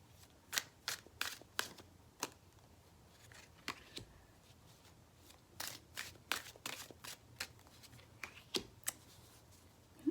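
Tarot cards are drawn and handled nearby: soft, quiet snaps, flicks and sliding rustles come in an uneven, scattered rhythm over a low background hum.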